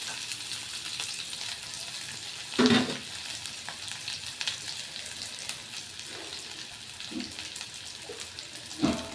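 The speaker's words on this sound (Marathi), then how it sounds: "बघा आता कांदा टाकलेला आहे." Chopped onion sizzles steadily in a hot pan, a constant frying hiss with a few louder bursts as it is stirred or disturbed.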